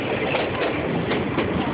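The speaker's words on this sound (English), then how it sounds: "That's the rear end of the train." A long circus train with flatcars at the rear rolls past, giving a steady, loud broadband rumble with faint rhythmic wheel clatter and no gaps throughout.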